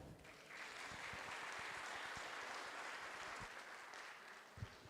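An audience applauds a speaker at a talk on investment governance, a steady, faint wash of clapping that holds evenly for several seconds before thinning out at the end.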